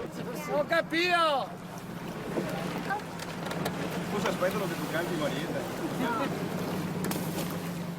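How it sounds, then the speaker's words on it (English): A traghetto ferry crosses Venice's Grand Canal with a steady low engine-like hum, lapping water and wind buffeting the microphone, while a voice calls out and people talk near the start. "The traghetto is a ferry that shuttles people across the Grand Canal."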